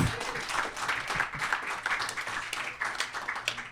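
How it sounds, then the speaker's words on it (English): Audience applause at a comedy podcast taping, a steady wash of clapping hands lasting a few seconds at moderate level, with faint voices mixed in. "Can we give a round of applause for Chuck E. Cheese"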